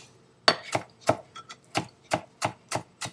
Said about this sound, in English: But you gotta keep chopping and chopping and chopping.